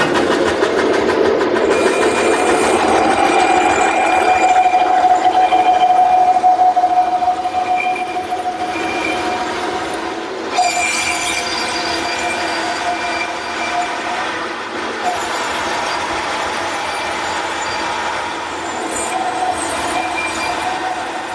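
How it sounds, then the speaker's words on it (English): A bandsaw runs continuously while a wooden octagon is slowly rotated against the blade on a circle-cutting jig to shape a round patio table top, a steady loud machine drone with shifting whine, no talking. "Now, turn the bandsaw on and just slowly rotate it around."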